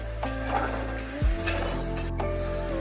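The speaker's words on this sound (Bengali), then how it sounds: "মশলাকে ভালো করে একটু নাড়তে হবে।" Spices sizzle in a hot pan while being stirred for chana dal, with a steady frying hiss broken by a few scraping strokes and clinks of the spoon against the pan.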